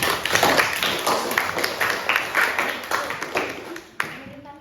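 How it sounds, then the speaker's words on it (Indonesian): A classroom of students claps during a practice teaching session, with a dense burst of hand claps that thins out after about four seconds as a single sharp clap sounds near the end. "beri tepuk tangan buat kawan-kawan"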